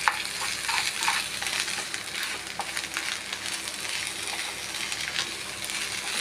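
A spice mixture for mango chutney frying in oil, with salt added, gives a dense, continuous close sizzle and crackle, stirred now and then, with no talking.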